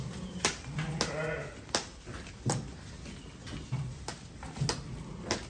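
Sheep and lambs bleating at a farm gather before sale, with repeated calls from several animals, some near and some farther off, over a steady rural background.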